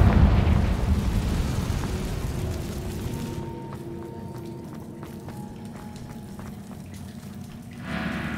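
A Confringo fire spell goes off in Hogwarts Legacy, a loud broadband blast that rolls off into a long rumbling decay, with faint crackles and tonal hum lingering before a brief swell at the end.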